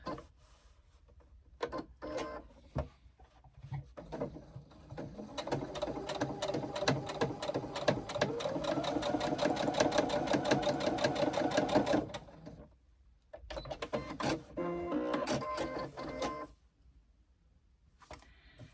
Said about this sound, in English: I'm just going to baste those side seams.